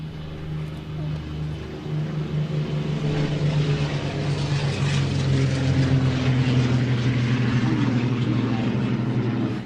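Yak propeller aircraft run on a hard-runway airfield, a steady droning engine and propeller tone that swells slightly and holds at moderate distance before cutting off.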